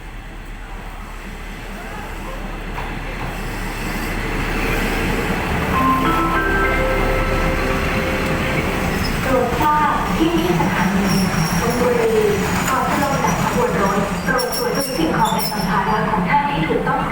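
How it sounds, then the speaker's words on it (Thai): Suburban commuter train 1118 from Nakhon Pathom pulls into Thonburi station in Bangkok, a steady rumble building and holding with rattling carriages and brief squeals, while station ambience and faint voices sit underneath. "ขบวนรถ ชานเมืองขบวนที่ 1118 นะครับ จากสถานีนครปฐมปลายทางทนบุรีกำลังจะเข้าจอดสถานีทนบุรีแล้ว"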